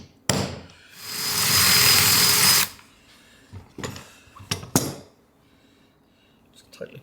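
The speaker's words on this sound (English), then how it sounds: "hold that and drill a hole in that." A power drill bores a hole through copper pipe for a campervan shower light, a loud, steady whine of about two seconds after a sharp knock, followed by a few scattered clunks and handling noises.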